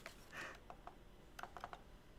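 Quiet computer keyboard typing while setting up an Ethereum staking node on Xubuntu: a handful of soft, separate key taps in two short bursts, close by with no talking.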